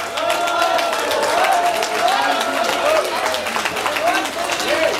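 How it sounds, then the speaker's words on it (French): Applause for the longtime cooks at a Chaudeau gathering in Wespes, Leernes and Fontaine-l'Évêque: dense, steady clapping from a crowd for several seconds, with voices mixed in. "Je voudrais qu'on les applaudisse avant cette interprétation."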